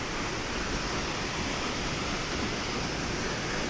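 Steady, dense rush of falling water from a waterfall beside Atri Muni's ashram, a continuous broadband roar heard close up with no pauses or voices.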